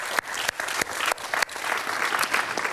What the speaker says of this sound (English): So I also want to give them a round of applause for the work they do